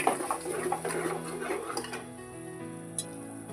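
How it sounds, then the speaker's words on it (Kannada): A utensil stirs and scrapes through field bean (avarekalu) gravy in a metal pan, with busy clinking and scraping for about two seconds before it settles into a quieter background hum. "ಇದನ್ನು ಚೆನ್ನಾಗಿ ಕೈಯಾಡಿಸ್ಕೊಳ್ಳೋಣ"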